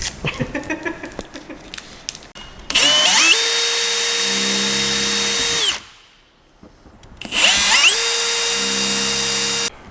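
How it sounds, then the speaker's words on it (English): A power drill bores into a van, whirring loudly in two sustained bursts of about three seconds each, separated by a brief quiet pause, with scattered clicks and handling noise at the start. "Well, we could drill more if you want."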